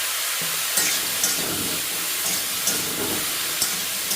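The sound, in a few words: mushrooms frying in butter while being stirred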